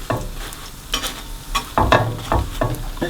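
Dhal puri flatbread cooking in a pan over gentle heat, giving a steady close sizzle broken by repeated soft scraping and pressing strokes, with no talking.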